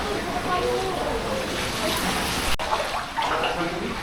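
Floodwater sloshes and swirls through a kitchen during a typhoon, a continuous broad watery rush with occasional splashes as someone speaks over it.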